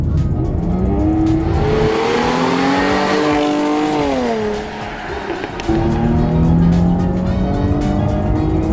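A supercharged V6 Jaguar F-Type engine revs hard, pitch climbing and dropping through gear changes, with a brief dip before roaring back loud and close.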